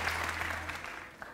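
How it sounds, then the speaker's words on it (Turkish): Studio audience applause on a Turkish TV talk show, a soft, fairly distant patter of many hands clapping over a low steady hum, brief and even. "Kocaman bir alkış alalım"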